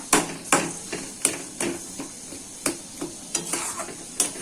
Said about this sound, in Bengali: আমি পুরো জিনিসটাকে মিশিয়ে দেব